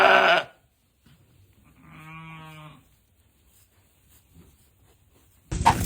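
A single sheep bleats once in a wavering, drawn-out call, close and fairly loud, framed by brief louder bursts of other sound at the start and end with quiet between.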